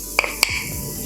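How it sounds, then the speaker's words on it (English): Garlic sautés in vegetable oil in a hot pan, giving a soft, steady sizzle broken by two sharp utensil clicks near the start. "Just going to saute the garlic for a while"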